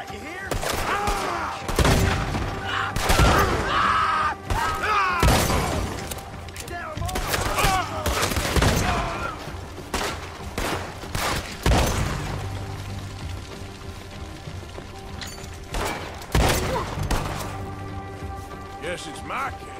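Shotgun blasts from the video game Red Dead Redemption 2 boom out repeatedly at irregular intervals, loud and close, mixed with crashes, game ambience and occasional character voices.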